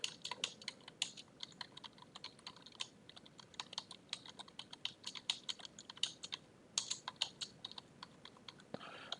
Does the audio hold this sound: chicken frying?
no